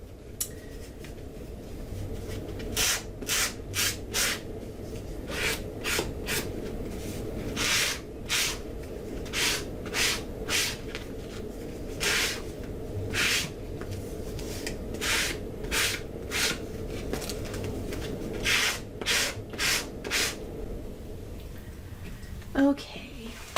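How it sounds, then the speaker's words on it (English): Paper card being sanded by hand in a crafting session, heard as a series of short, dry rasping strokes in irregular bursts, fairly close and quiet against a faint background hum. "I would have never thought I'd be sanding paper card."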